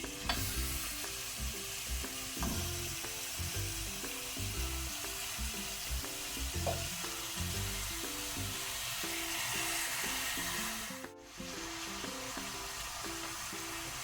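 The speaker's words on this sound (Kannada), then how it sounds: "ಈಗ ನಾನು 1 kg ಮಟನನ್ನು ಹಾಕ್ಕೊಳ್ತೇನೆ." A kilogram of mutton, some fat left on, hits a hot pan for pepper masala, a steady loud sizzle and fry hiss with stirring, running continuously and briefly dipping near the end.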